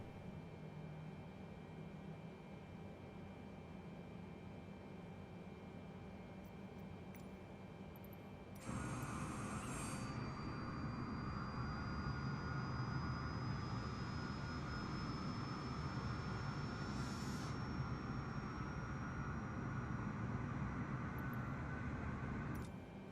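Boeing 747-800 jet engines spin up in Microsoft Flight Simulator, a steady low hum that jumps to a louder, fuller roar partway through, with a thin rising whine holding on continuously and no voices.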